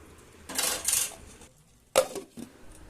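A metal lid clanks onto a cooking pot of spiced potatoes and tomato, two short close rattling knocks about a second apart.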